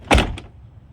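A 1988-1998 Chevy C/K 1500 pickup door with a sagging, gapped fit is slammed shut once, giving a single loud, close thud with a short metallic rattle just after, then quiet.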